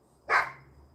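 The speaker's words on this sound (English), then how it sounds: "See, you let that dog bark." A single sharp dog bark, fairly close and loud, rising out of a quiet background and fading quickly.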